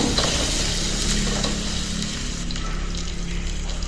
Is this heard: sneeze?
no